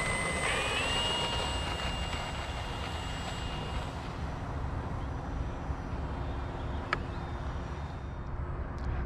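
An RC Flightline Spitfire MK.IXc 1600mm model plane flies overhead, its electric motor a steady, fairly distant whine with a high tone that shifts as it passes, over a continuous outdoor background.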